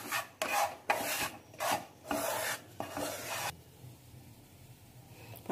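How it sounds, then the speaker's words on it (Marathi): Wheat flour dough crumbs roasting in ghee are stirred with a spatula in a pan, loud rhythmic scraping strokes at close range that stop, leaving a faint sizzle behind. "तर आपण तुपामध्ये कणिक भाजतो ही."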